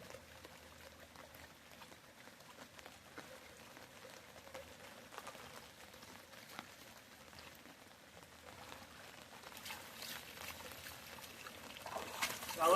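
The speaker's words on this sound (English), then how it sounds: "This just kind of clears out all the sand and sediment down into the bottom, and it just washes out." Water sloshes and trickles as sand and sediment wash out of a gold pan outdoors, a faint, steady splashing that grows a little louder toward the end.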